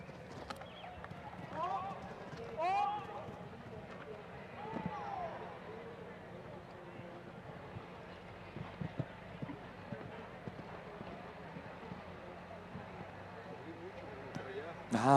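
Horse hooves clip-clop faintly during a 1.45 m CSI2* show jumping round at La Querencia, soft scattered hoofbeats in a quiet arena with voices talking over them.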